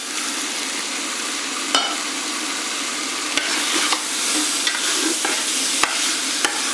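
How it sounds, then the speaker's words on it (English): Lentils with spices fry in a pan for chicken mulligatawny soup, a loud, dense, continuous sizzle close by, broken by occasional sharp utensil scrapes and taps as they are stirred, with no talking. "Give the lentils a good stir as well. You want the lentils to fry a little bit with all the spices in it."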